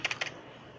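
A few quick, close clicks on a computer keyboard as commands are typed into a command prompt, brief taps then stillness.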